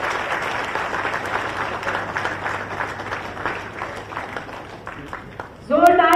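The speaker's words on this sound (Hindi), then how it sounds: "जोरदार तालियों से आप सभी के लिए शुभकामना प्रेषित करें" Audience applause at an event, a steady wash of clapping under a speaker's amplified voice, fading toward the end before voices rise.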